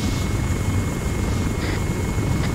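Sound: helicopter flying in ArmA3 video game

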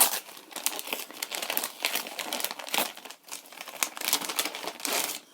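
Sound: unwrapping a gift package, paper crinkling

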